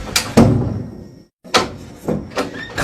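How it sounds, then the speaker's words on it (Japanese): A door knocks and bumps in several sharp impacts, one loud thud early on, a brief silence, then further close knocks and a rattling close, heard up close with no talk. "クロージングザドア。"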